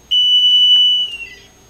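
A Uniview USS-SC100A-TM-O metal and temperature detection gate sounds its alarm at volume level 1: a single steady, shrill electronic beep lasting about a second, loud and alone, then cutting off.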